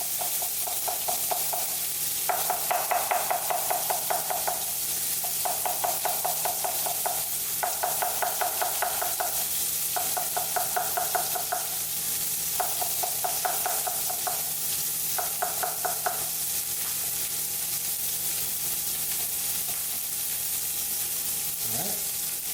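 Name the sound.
beef sizzling and cooking down in a pan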